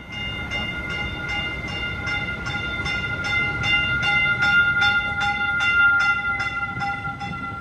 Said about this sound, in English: Okay, so we finished up in Millbrae, and we're back on the train.